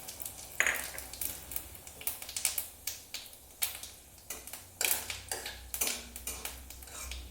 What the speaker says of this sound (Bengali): আর দিয়ে দিচ্ছি কিছুটা গোটা জিরে।